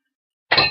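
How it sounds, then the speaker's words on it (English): An empty cat food bowl dropped onto a floor indoors, a single sharp clattering impact after silence, ringing briefly and fading, close and moderately loud. "That's the sound of the food bowl empty hitting the floor."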